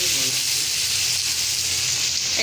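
Fish head frying in a pan with turmeric, chili, salt and tomatoes, a steady close hiss and sizzle of hot oil throughout, with no talking.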